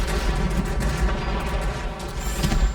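Rapid machine-gun fire from a warplane in the World of Warplanes combat game, a loud, dense and continuous burst of automatic shots that runs through the whole stretch with a heavy low rumble underneath.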